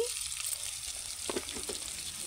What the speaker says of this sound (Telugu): పచ్చిమిర్చి పల్లీలు కొంచెం ఫ్రై అయిన తర్వాత ఒక 2 స్పూన్లు నువ్వులు వేసుకోవాలి